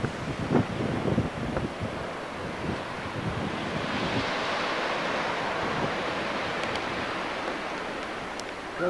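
Ocean waves wash onto a beach at Fortunes Rocks in Biddeford Pool, Maine, a continuous rushing surf roar mixed with gusty wind buffeting the microphone, fairly loud and with no voices.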